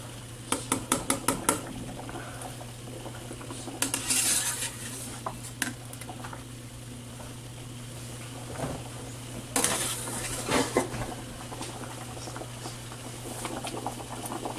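Cooked gnocchi are stirred into a pan of traditional red sauce: a metal utensil clinks sharply against the pan several times, then softer scraping and stirring follow amid a low steady hum.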